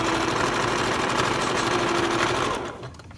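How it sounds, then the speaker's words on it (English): Sewing machine running a steady straight stitch down the curved seam of a homemade fabric face mask, a continuous close mechanical whir that holds level, then cuts off near the end. "At this point, we just sew down the curve."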